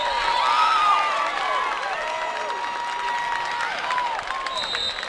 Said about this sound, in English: Both girls get huge applause